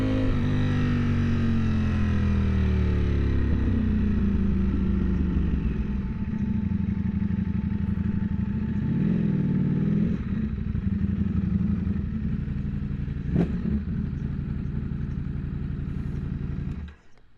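A motorcycle engine and exhaust drone loud and steady while riding over wet leaves, the pitch climbing as it accelerates at first, then holding a throaty, even hum with a brief sharp clack near the end before it cuts off.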